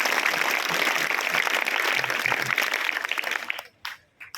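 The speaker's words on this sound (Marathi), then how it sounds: "सगळ्यांनी जरा मोठे टाळ्या" A school audience at a girls' school supplies distribution event claps steadily and densely, then the applause thins out and stops, leaving a few scattered claps.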